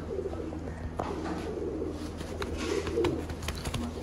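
Pigeons coo steadily in low, throaty repeated calls, fairly close, over a constant background hum.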